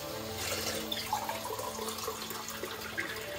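Water is poured into a pan of gravy for a Bihari potato and eggplant sabzi, giving a steady close splashing and trickling sound for a few seconds.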